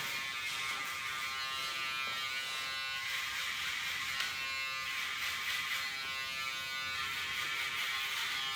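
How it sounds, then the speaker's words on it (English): An electric hair trimmer blends and polishes a short men's fade haircut, giving a steady, close, unbroken buzz that holds at an even level throughout with no talking. "Then I'll go back over with my trimmer just to blend and polish it off."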